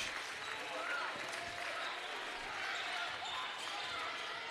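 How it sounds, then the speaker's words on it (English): A high school basketball crowd applauds a senior player heading to the bench during a Roseburg versus South Eugene boys game, a steady, fairly distant gym-wide clapping and crowd murmur with commentary-like voice beneath. "Jaden Kemmerly, much like the rest of the seniors, getting a round of applause as he heads to the bench."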